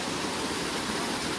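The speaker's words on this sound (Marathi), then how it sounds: "चला बाहुबली सारखं धबधबो चढान जाऊचा." Broadband rushing water from a waterfall in a rocky stream, steady and close, filling the whole short stretch with dense, unbroken roar and no voices.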